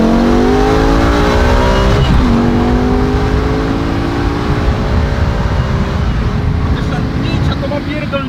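A BMW M5 engine revs hard and loud up close, rising through several sweeping pitch climbs with a sustained roar and possible tire noise, while voices talk over it.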